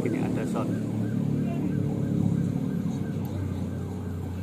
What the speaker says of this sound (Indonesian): Barusan ada ambulan lewat.